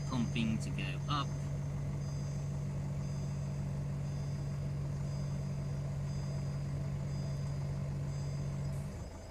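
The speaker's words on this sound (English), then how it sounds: "My compressor, you can hear there pumping to go up." A Citroen C4 Grand Picasso's suspension compressor pumps the car up with a steady, low, even drone that holds for about nine seconds before easing off at the very end.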